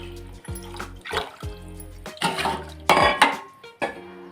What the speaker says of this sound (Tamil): இப்போ ஒரு 3 கிளாஸ் தண்ணி ஊற்றிக்கலாம்.